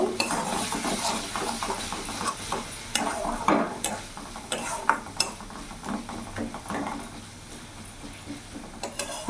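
A spoon or spatula stirs a masala of cumin, chilli and coriander powder in a pan for a fish curry, producing irregular scrapes and metallic clinks over a low frying sizzle, close and moderately quiet.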